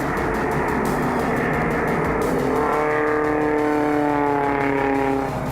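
Vintage race cars battle into a bend on a racing circuit, their engines loud and sustained, with revs climbing steadily as they power through, no voices present.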